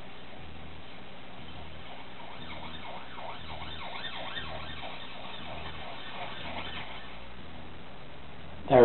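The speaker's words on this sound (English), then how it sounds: "got a feeling that's going to come past whatever that is with the siren on" An emergency vehicle siren wails through a town centre, its rising and falling tone swelling as it passes and then fading, heard at moderate distance over steady background noise, with a brief loud bump at the end.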